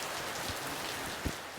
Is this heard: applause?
no